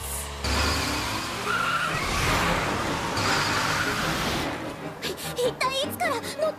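A car pulls away with a burst of tire skidding and engine roar, loud and close for several seconds before fading, with voices talking over the final stretch.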